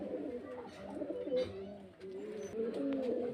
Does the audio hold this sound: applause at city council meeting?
no